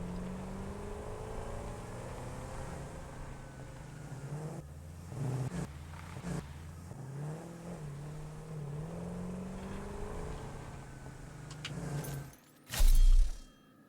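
Droning vehicle engine in the video game Satisfactory, a steady low hum with shifting pitch that runs throughout, interrupted by a few short bumps and a loud thud near the end, with no talking.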